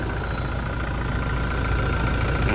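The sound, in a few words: Toyota Fortuner engine idling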